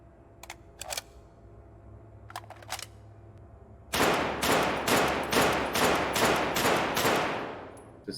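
A gun firing in the Dead Matter video game, first a few sharp isolated shots, then a rapid burst of about nine loud, evenly spaced rounds, crisp and close.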